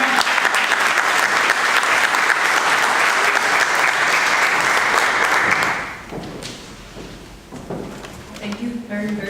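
Audience in a hall giving loud sustained applause to welcome a host on stage at a Tehreek Kashmir event, clapping that cuts off abruptly midway, followed by quieter room noise and a voice starting to talk.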